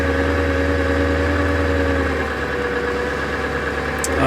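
A skoolie school bus engine runs in winter storm weather with a little throttle held on, a steady, loud, humming drone with a faint rise and slight shifts in tone.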